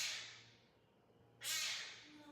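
A cat lets out two loud, drawn-out meows close by, separated by a short pause, with the second call rising sharply and trailing off into a softer tail.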